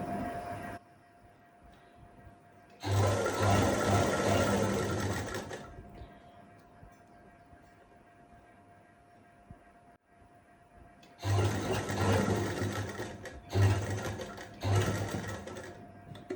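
A sewing machine stitches a saree on the diagonal in two loud, steady bursts, with a quiet pause between them.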